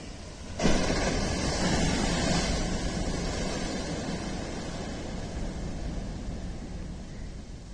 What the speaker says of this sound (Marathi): आसला ये बड़ लहड़ा आसला सीधा न